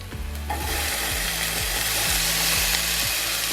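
Finely diced pepper tipped into onions frying in a pan for vegan chilli, a sudden burst of sizzling that settles into a steady, close hiss, no talk.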